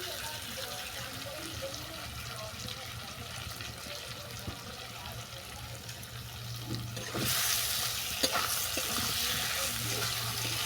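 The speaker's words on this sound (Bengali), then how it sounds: "সমস্ত উপকরণ ভালো করে কষিয়ে নিচ্ছি" Elephant foot yam greens are sautéed with spices in a Bengali ilish fish-head ghonto. A low, even sizzle with stirring carries on and grows louder and brighter partway through.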